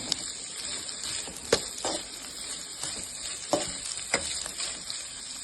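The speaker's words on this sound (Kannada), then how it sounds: "ಸ್ವಲ್ಪ ಹೊತ್ತು ಎಣ್ಣೆಯಲ್ಲೇ ಫ್ರೈ ಮಾಡಬೇಕು." Sliced capsicum and cabbage fry in hot oil with a steady, close crackling sizzle, broken by occasional clinks and scrapes from stirring, with no talking.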